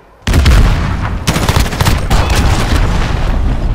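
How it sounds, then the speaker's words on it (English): Loud rapid gunfire with a booming missile blast in the Call of Duty Modern Warfare Headquarters multiplayer mode, a dense burst of shots and explosive roar that keeps rattling on without pause. "Nice missile."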